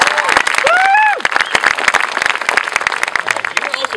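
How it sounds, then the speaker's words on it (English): Audience applause at a poi performance class, dense clapping with brief cheers and whistles near the start, close and loud, thinning slightly toward the end. "Can we have one more round of applause for Drex?"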